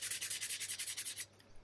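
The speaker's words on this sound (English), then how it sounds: "I used a sanding sponge and just lightly sanded them" Quick rhythmic rubbing strokes of a sanding sponge lightly sanding brass, about a dozen even back-and-forth passes, close and soft, then stopping.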